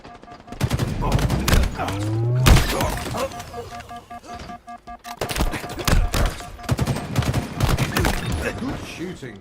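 Rapid bursts of gunfire from Halo Infinite crackle in close, dense volleys with sharp impacts and explosions, while a voice speaks intermittently.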